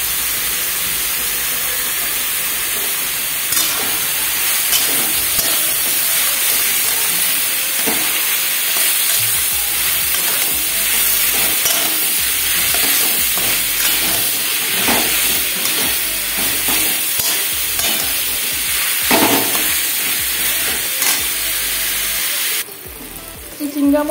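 Salted snake gourd pieces frying in hot oil with a little turmeric, giving a loud, constant close sizzle and hiss with occasional stirring scrapes, and no talking.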